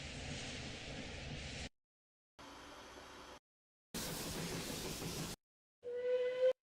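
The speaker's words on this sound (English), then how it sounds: "That's a train." A train sound effect from a game development sound library plays in separate bursts: broad rumbling and hissing segments split by silences, ending in a short tonal whistle.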